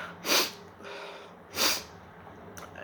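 Two loud, sharp sniffs about a second apart, followed by a softer third, close up, with quiet breathing between them.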